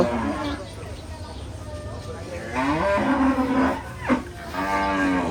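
Cattle moo in long, low calls nearby at a livestock market before Eid al-Adha, two or three drawn-out bellows over a noisy crowd murmur.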